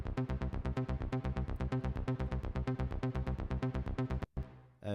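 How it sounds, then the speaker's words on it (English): Arpeggiated synthesizer in an electronic track's breakdown, a rapid, evenly pulsed run of bright repeated notes over a steady low tone, cutting off abruptly near the end before a brief sustained swell returns. "an arpeggiated kind of sound which sounds like this"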